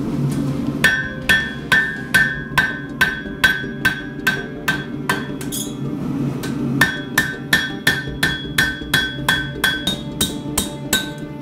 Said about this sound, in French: Je prends le côté, la panne du marteau.